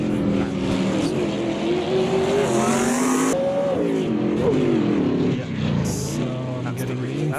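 Group C race car engines in Automobilista 2 at Long Beach, loud engine roar rising and falling through revs and gear changes, with a voice talking over the racing sound throughout.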